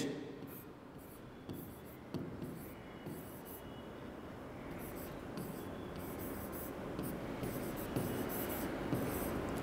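Faint scratchy strokes of writing on a board during a physics class on current electricity, continuing steadily and softly at a distance with a low room hum and no clear speech.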